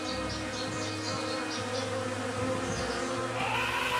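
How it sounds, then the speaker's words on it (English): A dense, constant buzz of many angry bees swarming close by, loud and unbroken, with individual insects whining in and out. "angry bees swarmed out,"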